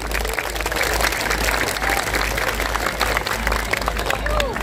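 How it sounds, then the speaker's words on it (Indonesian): A large outdoor crowd at an Islamic religious gathering applauds steadily, a dense, loud wash of clapping with some crowd murmur mixed in. "Tepuk tangan untuk beliau."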